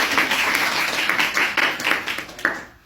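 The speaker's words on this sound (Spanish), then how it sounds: "Aplausos para él." Audience applause at a lecture welcoming a professor, a brief round of hand clapping with some louder individual claps, fading out at the end.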